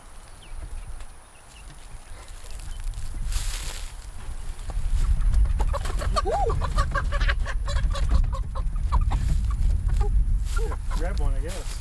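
Chickens cluck and call intermittently in a backyard chicken run, with people talking over them and bursts of handling noise and rustling close by.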